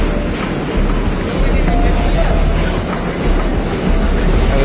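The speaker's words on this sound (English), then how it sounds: "the New York subways." A New York subway train rumbles along the tracks in a steady, loud, broadband roar with faint rail clatter, while a voice talks over it.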